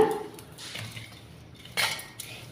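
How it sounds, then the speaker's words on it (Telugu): Chili powder gets mixed into oil with a utensil, giving a few soft scraping strokes and a brief louder clink against the bowl, close and quiet. "కొంచెంగా నూనె పోసుకుని ముందర ఈ కారాన్ని అంతటిని నూనెలోకి ఇలా కలుపుకోండి"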